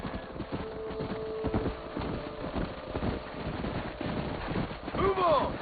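Horse hooves clip-clopping in the Western video game Red Dead Redemption, a steady rhythmic patter under game sounds, wind and low talk, with a horse whinnying near the end.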